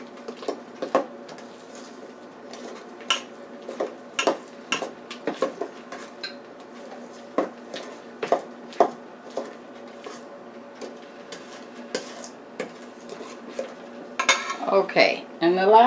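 Spoon clinking and scraping in a bowl as drained cranberries are stirred into cornbread batter, irregular close metallic taps and scrapes, with a louder clatter near the end.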